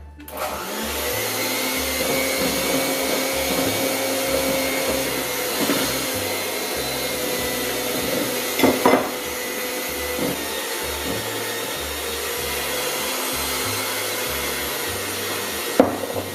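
An electric mixer beats cupcake batter for a long, steady stretch with a constant whirring drone, with a few knocks heard on the bowl over it.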